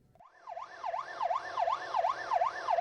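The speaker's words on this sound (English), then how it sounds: "Sirens stand as a warning to others that an incident has occurred and that emergency vehicles are on their way" An emergency vehicle siren wails in a steady rising-and-falling yelp, repeating evenly and growing a little louder as it nears, heard alone without voices.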